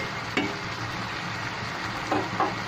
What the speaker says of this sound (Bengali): আদা রসুন সহকারে আমি কিছুক্ষণ ভেজে নিলাম